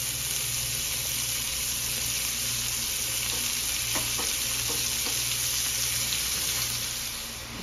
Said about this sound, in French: on commence à mettre la viande, on a remonté un peu le rond pour bien saisir la viande